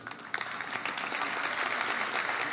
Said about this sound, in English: A big round of applause for Leyla